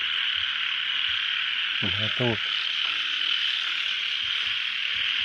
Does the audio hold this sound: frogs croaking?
yes